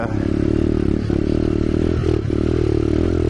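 A dirt bike motorcycle engine roars close and loud while riding a motocross track, a steady revving drone with brief dips and surges as the throttle changes.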